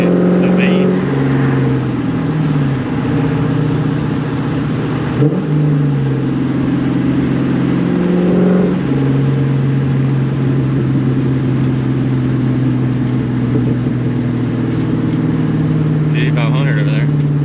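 A loud Ford Mustang S550 with only a resonator in its exhaust, heard while driving on torn-up roads: a steady, droning engine rumble lasts throughout, with people talking over it.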